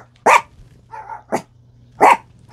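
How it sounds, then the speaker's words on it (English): Several dogs bark in sharp, loud bursts, three strong barks with softer yips between them, close by over a low steady hum. "And you will hear my dogs going off."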